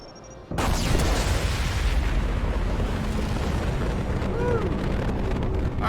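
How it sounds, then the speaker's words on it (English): A sudden, loud explosion in the video game Mass Effect 2 Legendary Edition bursts in after a brief quiet moment and settles into a heavy, sustained rumble that lasts several seconds, with faint tonal game effects ringing over it. "Boom. Impending explosion."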